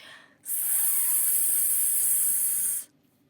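A person makes a long, steady hissing 'sss' that imitates a boiling kettle, held for about two seconds, close and alone.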